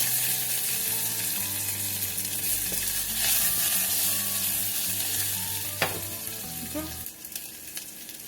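Onion fries in hot oil for fish kulambu, sizzling loudly and continuously up close with occasional stirring scrapes and clinks of a spoon against the pan.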